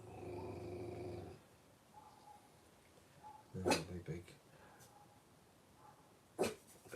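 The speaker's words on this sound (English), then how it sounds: "Is it those other dogs barking?" A dog gives a low growl at the start, followed by a couple of short, sharp barks a little way off, while a person talks quietly in between.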